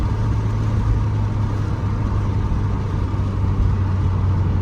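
A 2015 Scion tC engine hums steadily while driving, with a low, constant drone and road noise and no clear shift event standing out.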